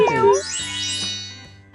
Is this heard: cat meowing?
yes